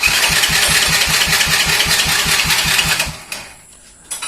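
A motorcycle engine cranks on its electric starter and catches in one click, running with a steady rapid pulse for about three seconds before cutting off into near quiet.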